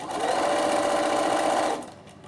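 A sewing machine top-stitches with a long stitch along the folded edge of fabric. Its motor whirs in a close, steady run for under two seconds, then stops.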